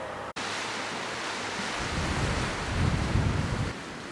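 Sea waves wash onto the coast at sunset, a broad steady surf roar mixed with wind buffeting the microphone, swelling a little toward the end after a brief dropout near the start.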